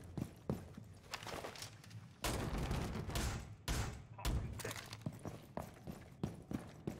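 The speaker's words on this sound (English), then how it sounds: "they're shooting through the window to to the west" Gunfire shooting through a window in a tactical video game, a scatter of sharp shots and bursts amid footstep-like thuds, fairly faint and uneven, with some voices in the background.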